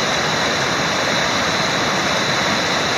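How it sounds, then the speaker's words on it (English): Steady rush of a flowing stream on the Appalachian Trail between Connecticut and Massachusetts, a dense continuous broadband wash of water close by, loud and unbroken with no voices. "now that we've crossed the stream"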